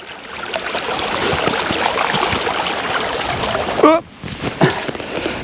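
Clear moorland stream water flows in a steady, close broadband rush, briefly interrupted near the end by a short higher sound.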